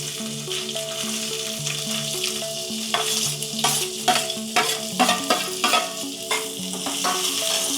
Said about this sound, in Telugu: ఆయిల్ వేడెక్కాక ఆనియన్స్ కట్ చేసి పెట్టుకున్న ఆనియన్స్ గ్రీన్ చిల్లీస్ వేసుకున్నామండి